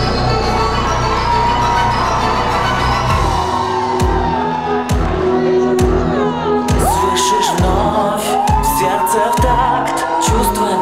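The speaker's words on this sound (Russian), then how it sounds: "Провожаем бурными аплодисментами" Audience clapping and whooping at a cosplay show, partly buried under loud, steady music with a thumping beat that runs through the whole stretch.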